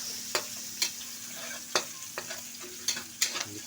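Onions stir-fried in a pan for creamy tofu with hotdog, a steady sizzle broken by repeated sharp spatula scrapes and clacks against the pan, close and clear.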